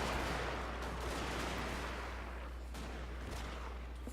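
Volleys of rifle and artillery fire rolling across a Total War: Shogun 2 Fall of the Samurai online battlefield, a dense distant crackle of shots over a constant low rumble, fairly quiet and continuous.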